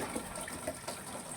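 Strong stream of water rushing from a tap, a steady close gushing hiss with slight fluctuations and no talk.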